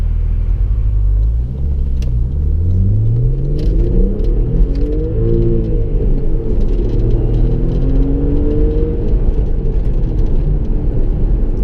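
An Audi B5 RS4 Avant with its factory 380-horsepower engine, a loud, close rumble rising and falling through repeated revs and gear changes as the car drives, with no talk.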